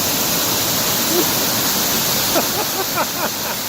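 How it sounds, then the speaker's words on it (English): Cold glacial runoff water rushes steadily and loudly nearby, a dense continuous roar with a few brief voice sounds breaking through toward the end. "I don't know what this water is, but it's coming off of a glacier."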